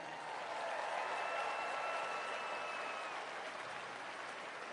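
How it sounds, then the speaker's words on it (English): A crowd claps in steady, sustained applause that fills an indoor arena during a presidential inauguration parade, heard as a dense, even wash of clapping that holds for several seconds. "So I'm asking you to give yourself a round of applause right now."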